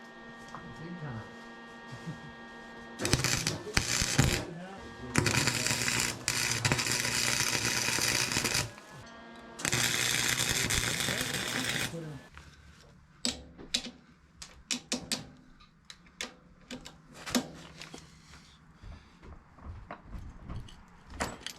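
Stick welder tack welding a nut onto a bolt: two long loud bursts of crackling buzz, with shorter sputters before and after, then quieter clinks and handling noise.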